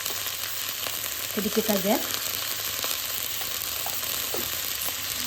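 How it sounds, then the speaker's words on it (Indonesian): Vegetables stir-frying in a pan give off a constant close crackling sizzle, with faint scrapes of stirring and a brief spoken remark over it. "kita tumis sebentar"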